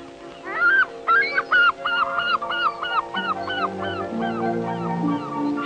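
Seabirds call along the Pembrokeshire cliffs and islands, where gulls, kittiwakes, guillemots, razorbills, shags, puffins and gannets gather. A run of loud, honking repeated cries overlaps with lower drawn-out calls, close and busy, with no talking.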